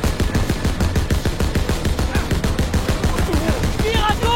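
Dense automatic gunfire in the video game Call of Duty WW2, a continuous rapid rattle of shots that stays loud throughout, with faint game tones and voices mixed in near the end.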